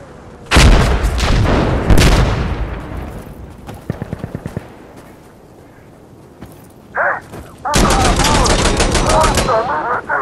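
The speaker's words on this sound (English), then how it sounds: "Throwing bottle bomb!" In the video game Insurgency: Sandstorm, a thrown bottle bomb bursts amid gunfire: loud, sharp blasts and rattling rapid shots come in separate bursts, with quieter stretches between them and a heavy roar at the end.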